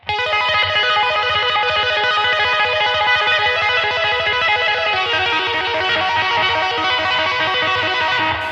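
Rapid two-handed tapping on an electric guitar, a fast, continuous stream of bright, evenly repeating notes through effects, loud and steady for the whole stretch with no voices.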